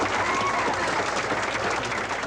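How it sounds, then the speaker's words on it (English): A crowd of about 500 workers cheers and applauds a returning executive, dense steady clapping with crowd noise sustained throughout at close range. "he was greeted not by pallbearers, but by 500 cheering workers"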